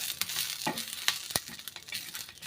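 Green chillies roasting on a hot tawa, a close crackling sizzle with quick scraping stirs and a few sharp pops, brief and moderately quiet, no speech.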